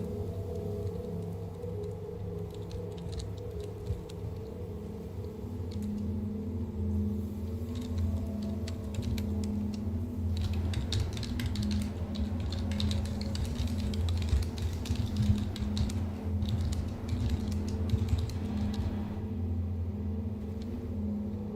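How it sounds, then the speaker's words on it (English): Computer keyboard typing comes through as a run of quiet, rapid key clicks over a low steady rumble from game audio, continuing for about twenty seconds without talk. "Let me finish typing this real quick."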